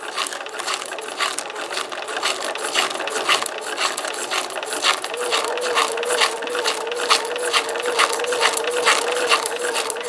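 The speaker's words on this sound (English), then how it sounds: "I'm just going to let the machine take the paper. Okay, it's going to ruffle it up all by itself." A sewing machine feeds and ruffles tissue paper on its own, giving a steady rapid mechanical clatter of regularly ticking stitches with a soft crunch, fairly close and continuous throughout.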